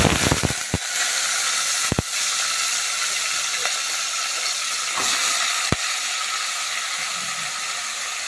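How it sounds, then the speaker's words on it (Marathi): Chicken pieces frying in hot oil in a village kitchen give a loud, steady, close sizzle, broken by a few sharp clicks near the start and scattered faint ticks afterward. "तर इकडे एका साईडला चिकन फोडणीला द्यायचं आहे आपल्याला"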